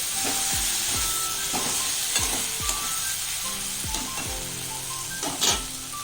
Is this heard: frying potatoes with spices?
yes